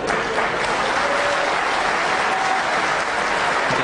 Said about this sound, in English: don't know what the applause there was.